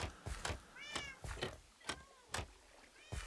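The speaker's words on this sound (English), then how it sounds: "we'll just always have a bunch of other cats down there" Several cats meow in Minecraft, a cluster of short, rising mews from a pen of bred cats, repeating every half second or so at close range over faint game ambience.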